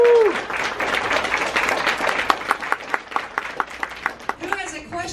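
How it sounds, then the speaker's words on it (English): Applause from the audience at a horror film festival panel, a crowd clapping together that thins into a few distinct, fairly close individual claps, with voices briefly heard at the start and end. "Give him a round of applause."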